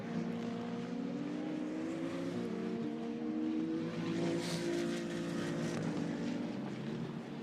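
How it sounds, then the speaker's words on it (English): Maserati GT2 race car engine during qualifying at Misano, a steady sustained drone with rising and falling harmonic tones as the car passes, fairly loud and continuous with no talk. "The Maserati, great looking car, great sounding car"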